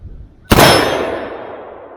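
An AR-15 short-barreled rifle fires a single round of Wolf steel-cased 55-grain ammunition: one loud, sharp muzzle blast, followed by a long reverberating, ringing decay that fades over about a second and a half, with no voices.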